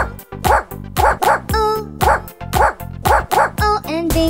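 A farmer's dog in a children's nursery rhyme barks repeatedly in quick, rhythmic bursts, loud and close, with short yips set in time with the song.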